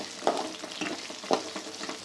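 Shallots with curry leaves and a pinch of salt frying in hot oil, a steady sizzle broken by several sharper bursts of stirring and scraping against the pan, close and fairly quiet, with no talking.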